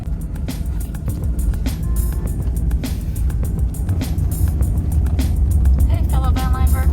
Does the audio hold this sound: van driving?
yes